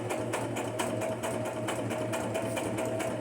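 A sewing machine stitching across paper for a junk journal, running in a steady fast rhythmic clatter with regular needle beats, close and continuous with no talk.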